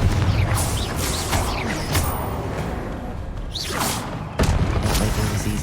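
Explosive fire spell blasts and magical whooshes in the video game Hogwarts Legacy, loud and dense with repeated bursts and sweeping swishes over constant game noise, no talk.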